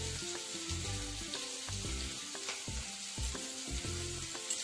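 Chopped garlic fries in a pan for chili chicken, a soft, constant sizzle sitting beneath louder background music, with no one speaking.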